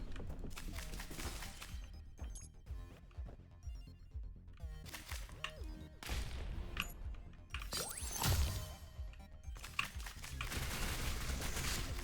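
Gunfire in the video game Neon Abyss 2, rapid bursts of shots and shattering impacts layered over busy game music and effects, loud and continuous throughout.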